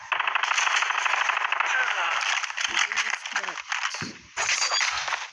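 Rapid gunfire from the mobile shooter game Call of Duty Mobile rattles loudly and almost without pause, with a short break near the end before firing resumes. Voices talk over the shooting.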